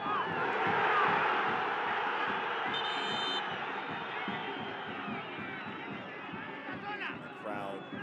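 Football stadium crowd at a Concacaf League match cheering in a loud, sustained roar that slowly eases, with a brief whistle-like tone partway through and a commentator talking over it.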